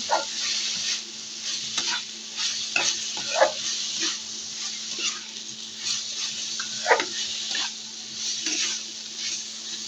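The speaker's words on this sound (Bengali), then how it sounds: "এই যে আমার ভাজিটা হচ্ছে।" Chichinga (snake gourd) bhaji sizzling in a pan, with a steady frying hiss and intermittent scraping as it is stirred, fairly close and without talk.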